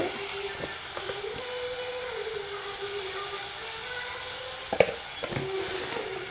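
Goat brain fries in a pan with a continuous soft sizzle and hiss, moderately quiet and close, over a low steady hum, broken near the end by a sharp utensil clack and brief stirring scrapes.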